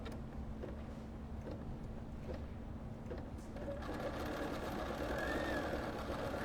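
A quilt shop embroidery machine stitches a design in silver thread, giving off a faint, steady mechanical hum with soft repeated ticking.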